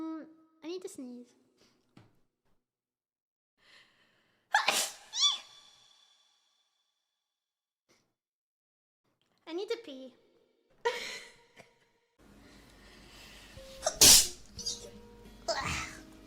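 Sneezes burst out in several sharp, loud bursts spaced across the stretch, with soft cat meows and human talk between them and a noisier clatter near the end.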